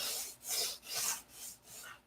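Sanding balsa wood saturated with CA glue, steady back-and-forth rasping strokes, about five rhythmic passes with a dry, buzzing scratch, close and quiet.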